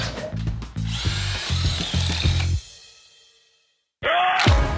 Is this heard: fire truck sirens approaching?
no